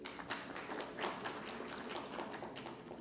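Audience at a technical textiles conference applauding, a steady patter of many hands clapping at moderate distance, fairly soft and continuous throughout.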